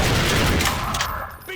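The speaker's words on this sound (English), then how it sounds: "Alright, rocket launcher. Bam." Rocket launcher firing in Half-Life 2: Episode One, a loud dense blast with sustained rumbling decay filling the whole short moment, no talk over it.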